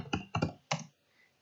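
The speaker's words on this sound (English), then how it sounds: "So here I'm just for demo I'm typing" A computer keyboard is typed on in short bursts, four crisp key clicks in quick uneven succession, close and clear against a quiet room, then silence.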